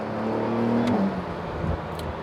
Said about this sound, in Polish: Dźwięk silnika jest kapitalny, mam tutaj oczywiście przycisk do podgłaśniania e, wydechu.